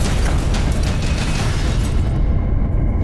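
A torpedo striking a warship sets off a loud, sustained explosion, a dense roaring rumble that fills the whole stretch and thins slightly at the end, with no voices.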